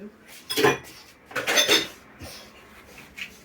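A metal whisk clatters and clinks against a bowl of oatmeal cookie dough in a few quick bursts, close by, with quiet pauses between.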